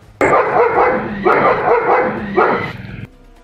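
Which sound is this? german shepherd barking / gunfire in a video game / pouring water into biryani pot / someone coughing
german shepherd barking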